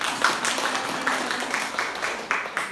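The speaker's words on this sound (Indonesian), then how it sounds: "Tepuk tangan dulu." A small group claps in a light, scattered patter, brief and moderately close, with faint murmuring beneath.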